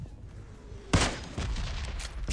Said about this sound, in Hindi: क्रैक शॉट पड़ा एक बंदे को